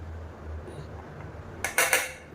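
Knife cutting through steamed forest elephant rice puttu in a kitchen: a quiet stretch, then two or three brief, crisp scraping clatters of the blade against the plate near the end.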